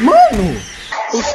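Cartoonish dog barks and yips from dog nextbots chasing the player in Garry's Mod, a yelping bark rising and falling early, then fainter growly sounds, with someone shouting over the game audio.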